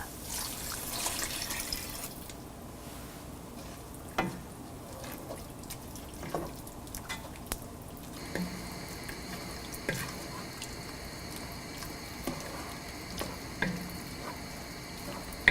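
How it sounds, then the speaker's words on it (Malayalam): Vinegar poured into venison pickle masala in a pan and stirred in, a soft liquid splash and wet stirring with scattered scrapes and clinks of the spoon, steady and close, no talk. "വിനീഗർ ഒഴിച്ച് മിക്സ് ചെയ്യുക"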